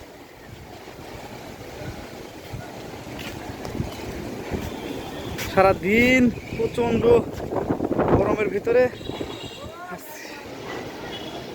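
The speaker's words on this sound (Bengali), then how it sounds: "রোদের ভিতরে এখন কি পরিমাণ বাতাস উঠছে, ভাঙচুর করে ফেলাইতেছে" Strong wind blowing ahead of a storm makes a continuous, rough broadband roar, with someone talking loudly over it through the middle.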